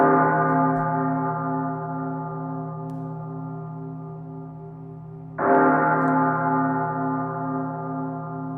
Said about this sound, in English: it's like a bell at a temple